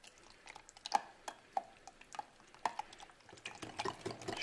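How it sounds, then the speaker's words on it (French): A whisk or spoon mixes cream into a quiche lorraine filling in a bowl, making rhythmic light wet clicks and taps against the bowl at close range. "On mélange."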